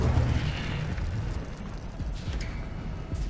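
An Incendio fire spell cast in Hogwarts Legacy, giving a loud whooshing burst of fire with a rumbling roar that carries on steadily and close for about three seconds, with no voices.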